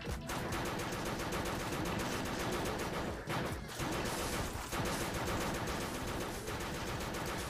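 Rapid, continuous gunfire from the top-down shooter game Crimsonland, a dense, loud stream of shots rattling almost without pause, with only a few brief gaps.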